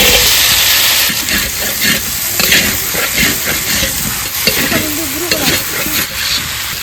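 Potatoes and cauliflower tossed into spices frying in oil for khichuri, a loud, close, continuous sizzle and hiss with rough stirring scrapes running throughout.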